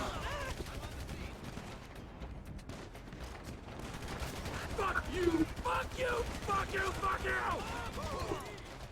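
Gunfire from the video game GTA 5, bursts of rapid shots running throughout under game music and voices, growing louder and denser in the second half.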